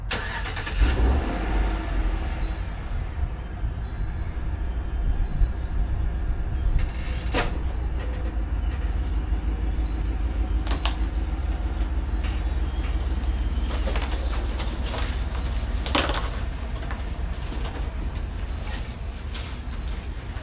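Car driving on the road, a steady low engine rumble and road noise heard from inside, with occasional faint clicks and knocks.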